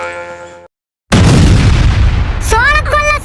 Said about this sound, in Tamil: வேற எங்கேயாவது போய் வெடிடி.